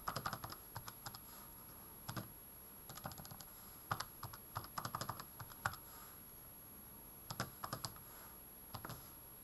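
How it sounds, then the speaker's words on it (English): Numbers keyed in on a calculator keypad, faint close-up clicks arriving in short clusters with pauses between them over a low steady hiss, no voices. "Again, we go to our calculator, type it in carefully."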